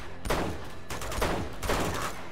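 Rapid bursts of gunfire in the Uncharted: Among Thieves action game, three loud volleys in quick succession with a steady battle din between them.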